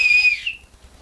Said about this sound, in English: I hear a police whistle.